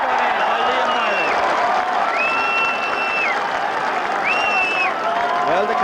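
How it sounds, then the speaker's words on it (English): A Gaelic football crowd of Kildare supporters at a 1990 National Football League quarter-final against Cork, cheering and clapping in a steady roar while a commentator talks over it. "the Kildare supporters were in a high voice there after Dowling put down Larry Tompkins"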